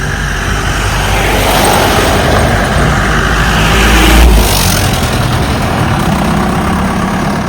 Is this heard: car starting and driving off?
yes